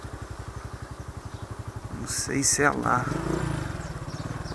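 A motorcycle idles with a steady, close, low putter as it is brought to a stop and parked, a rider's voice speaking briefly over the engine midway.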